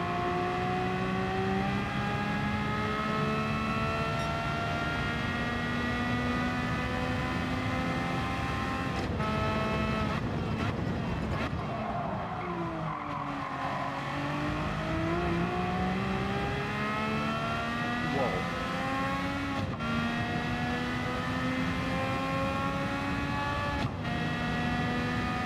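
A race car engine in Gran Turismo 7 drones loudly and steadily for the whole stretch. Its pitch climbs and drops as it revs through gear changes, with brief dips where it lifts off the throttle.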